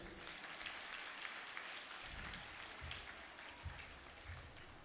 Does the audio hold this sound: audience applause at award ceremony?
yes